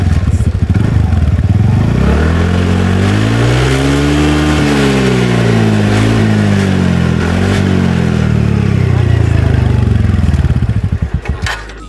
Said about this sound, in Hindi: सो एग्जॉस्ट नोट के बिना वीडियो खत्म तो हो नहीं सकता।